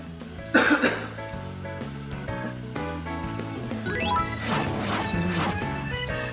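One loud, close cough bursts out near the start, followed by softer throat sounds over background music.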